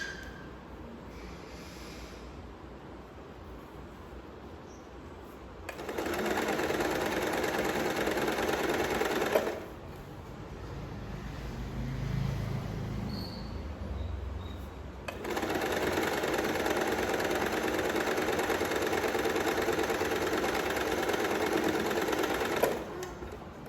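A sewing machine stitches a kurti side seam in two long runs of steady, fast whirring, close and loud, with a quieter handling pause between them.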